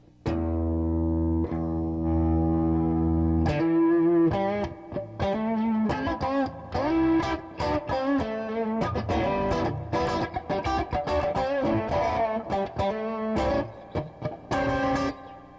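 An electric guitar on single-coil pickups with light, low-gain crunch rings out a held chord, then launches into a busy bluesy run of quick notes and bends.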